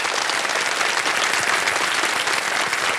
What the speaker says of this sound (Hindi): बधाई बधाई, ताली बज जाए इनके लिए।